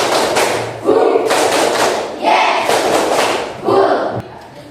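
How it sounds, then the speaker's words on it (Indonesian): A primary school class performs a counted clap pattern of one, two, then three claps, heard as sharp grouped bursts of hand claps separated by short pauses, with the class loud and close. "tepuk 1, tepuk 2, tepuk 3, tepuk 1, 2, 3"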